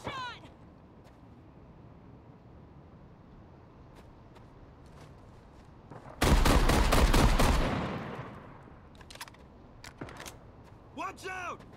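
Automatic gunfire from the Caliber tactical shooter game, a dense loud burst of shots lasting over a second, with radio chatter and background game noise around it.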